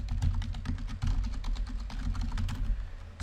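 Quick typing on a computer keyboard, a rapid run of close, soft key clicks with brief pauses between bursts and no talking.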